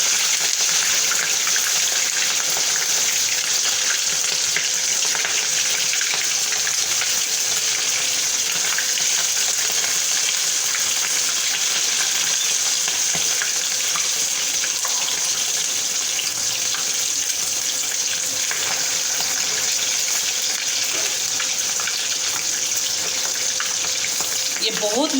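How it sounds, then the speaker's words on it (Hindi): Tabaq maaz frying in oil, a steady dense hiss of bubbling oil that holds evenly for the whole stretch, close and fairly loud, with a faint voice now and then. "मैं इसको ऑयल में फ्राई कर रही हूँ"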